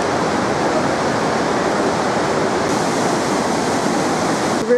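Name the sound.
Lihu River rushing through Taroko Gorge marble canyon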